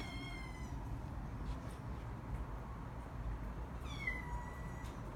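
A kitten gives two short meows, one at the start and one near the end, faint against a steady low background rumble indoors.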